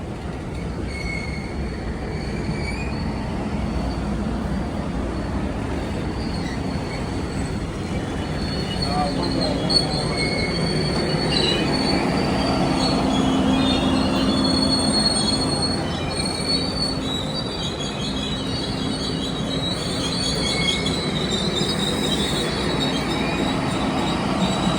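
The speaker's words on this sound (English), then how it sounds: "Now it's Amtrak Train 41 from Chicago to Miami, and it's been renamed the Floridian." Amtrak passenger train 41, the Floridian from Chicago to Miami, rolling past on CSX tracks of the old B&O line in the Potomac Valley, a long steady rumble with high squealing wheels, loud and sustained throughout.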